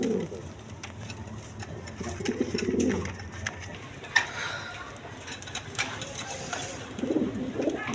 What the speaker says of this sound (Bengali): দর্শকবৃন্দ এখানে একটা লাহোরি কবুতর আছে দেখেন, একদম বিগ সাইজের ইউসিফের দেখেন